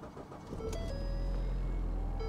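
A Ford Fusion engine turns over and catches, rising from a brief crank into a loud, steady idle close by with faint dashboard chimes, no voices.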